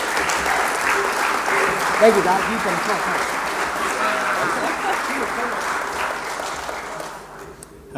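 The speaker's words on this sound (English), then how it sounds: "Give them a big round of applause." A conference crowd at an Indigenous youth leadership event applauds steadily while a speaker talks over the clapping, and the applause gradually tapers off near the end.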